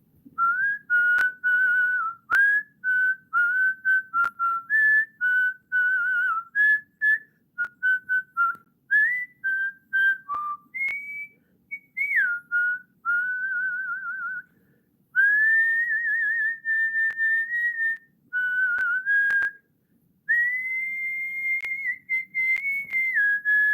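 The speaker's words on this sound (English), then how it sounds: "I'll whistle something for you" A person whistles a melodic tune alone for over twenty seconds, clear and close, in phrases with short breaths and pauses between them and faint room noise underneath.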